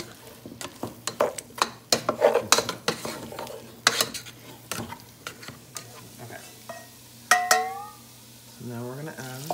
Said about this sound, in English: And you're gonna wanna stir it a lot for about a minute.